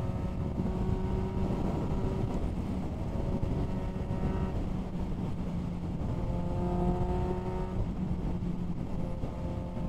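Suzuki GSX-S750 naked motorcycle engine droning steadily while riding on a windy road, a continuous hum with shifting pitch beneath heavy wind buffeting on the microphone.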